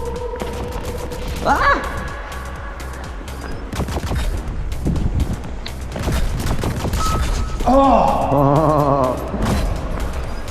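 Charged laser pistol shots ring out in the VR game Space Pirate Arena on Oculus Quest 2, with electronic zaps and bouncing beam effects in a busy mix while a player exclaims.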